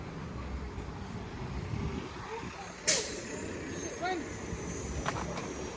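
A city bus's air brakes hiss sharply once, with a rising squeal and engine rumble under steady street traffic noise on Toronto's Main Street, fairly close by.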